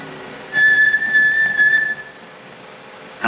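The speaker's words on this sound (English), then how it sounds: "Perhaps I'll whistle," A man in a 1952 television drama whistles one clear, sustained note lasting over a second as a private signal. It sounds close and fairly loud against a faint background hiss, with no speech.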